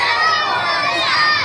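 A class of children shouts together as loudly as they can, a dense and continuous burst of young voices close by.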